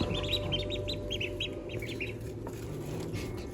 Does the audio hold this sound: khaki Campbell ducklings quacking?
yes